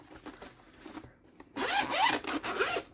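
A zipper is pulled shut around a TEMU card album: a quick, close, rasping zip in the last second and a half, after faint handling noise.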